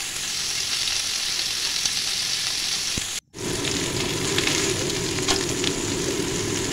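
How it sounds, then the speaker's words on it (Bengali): Young jackfruit and potatoes fry in hot oil in a kadai, giving a loud, steady sizzle that drops out for a brief moment before the crackling resumes with scattered pops. "कड़ाए तेल दिए निच्छि, तार मध्ये एबार एचोर आर आलूगुलोके भेजे नेब।"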